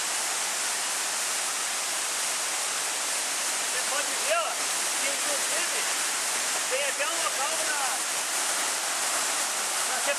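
Sea waves wash onto a rocky shore in a continuous, loud hiss of surf and spray that stays steady throughout, with a faint voice briefly audible beneath the roar.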